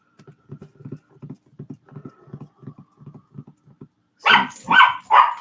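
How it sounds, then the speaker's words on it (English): Several dogs bark in a quick, irregular series of short, moderately loud yaps, followed by a few louder, fuller barks closer by at the end. "Because they may really get to barking."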